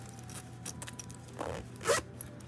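A zipper on a purse's front zippered pocket is pulled in quick, close strokes, a short raspy run ending in a louder final zip, with faint handling noise around it.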